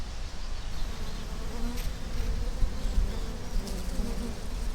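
Steady buzzing of bees, a dense continuous hum with no speech, fairly close and even in loudness throughout.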